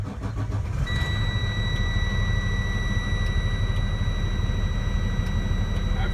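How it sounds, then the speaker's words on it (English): A truck engine cranks and catches, then settles into a steady, loud, close diesel idle with a constant low rumble and a faint high whine, alone without talk. "and start my engine."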